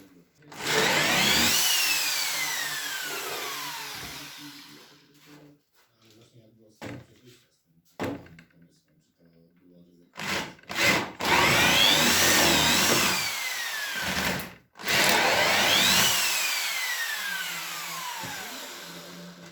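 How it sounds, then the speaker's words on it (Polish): A power drill with a 10 mm bit bores through timber while a tractor shed roof frame is being built, in three long, loud whining bursts separated by pauses full of small knocks and clatter. "Teraz wiertłem 10 tylko na wymiar docelowy."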